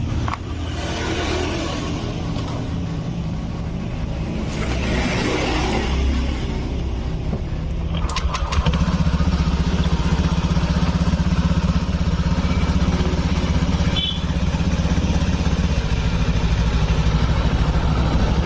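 A 2017 Honda Scoopy scooter with an oil leak idles in a workshop, its engine a steady low rumbling putter throughout, with a brief revving surge near the start and a few clicks and clanks of handling nearby.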